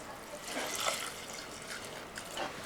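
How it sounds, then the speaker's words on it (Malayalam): Water poured into a pressure cooker holding rice and lentils for a Kerala sweet rice porridge, a steady faint splashing trickle lasting throughout, close by, with no voices. "ഇനി നമുക്കിത് വേകാനുള്ള വെള്ളം കൂടെ ഒഴിച്ച് കൊടുക്കാം."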